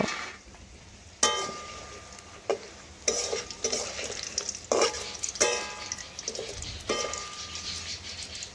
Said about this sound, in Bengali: আর ভালোভাবে নাড়াচাড়া করে উল্টে পাল্টে লাল লাল করে ভেজে তুলে নেব